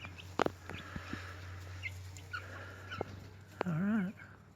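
Buff Orpington chickens cluck softly and intermittently outdoors under a steady low hum, with scattered faint calls and a brief louder warbling squawk near the end.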